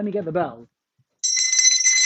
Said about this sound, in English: Let me get the bell.